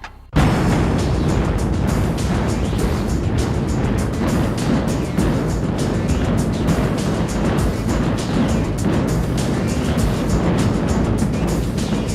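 A demolition blast bursts in loud and sudden, then turns into a long, dense roar of collapsing debris and rumbling that keeps going for over ten seconds without a break.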